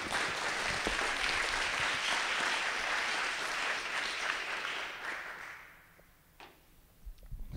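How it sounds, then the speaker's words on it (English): Dense audience applause fills a meeting hall during a legal presentation in Enfield, holding strong for about five seconds before dying away to a few scattered final claps. "That you can applaud for."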